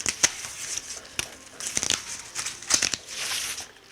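Thin pre-cut cardboard crinkles and tears in short, close bursts as a circle is pressed out, a few separate crackling pops with quiet gaps between.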